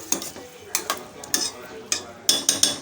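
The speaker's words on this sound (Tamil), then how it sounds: "சேர்த்து மிக்ஸ் பண்ணி விட்டுப்போம் உப்பு மஞ்சப்பொடி சேர்கிற மாதிரி கலந்து விட்டுக்கலாம்" A spoon stirs turmeric and salt into food in a pot, with rhythmic scraping and clinking strokes about every half second over a faint sizzle.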